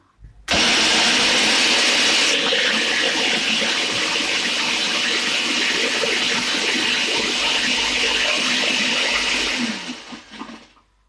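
A blender whirs loudly through a single long pulse, chopping ingredients for Liberian pepper sauce, starting abruptly, running steady and close for about ten seconds, then winding down.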